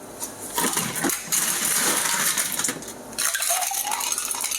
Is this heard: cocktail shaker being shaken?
yes